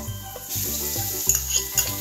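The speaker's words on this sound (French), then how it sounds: "faire revenir le tout avec la cuillère en bois, jusqu'à ce que l'oignon" Sliced onion and ground ginger sizzle softly in a pan as a wooden spoon stirs them, with a few light scrapes and clicks against the pan over a steady background hum.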